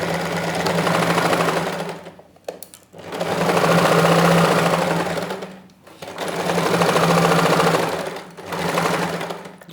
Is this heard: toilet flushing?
no